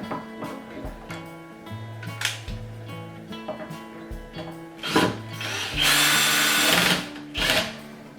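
Power drill driving a screw into a cabinet knob, several short whirring bursts starting and stopping at close range, with a longer, louder run near the end.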